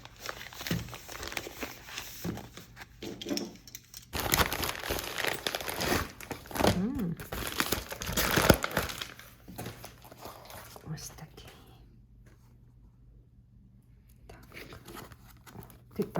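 A parcel envelope shipped from America is opened, with loud crinkling and ripping of plastic packaging in close, uneven bursts, then softer rustling as a voice talks intermittently.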